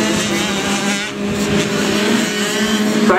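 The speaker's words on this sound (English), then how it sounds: "And taking the checkered flag, Brody Bainig in bike 129 picks up the win here in race number two" Race motorcycles roar across the finish line at the end of race two in Portales, New Mexico. The engine drone is loud and continuous, rising and falling slightly as the bikes pass.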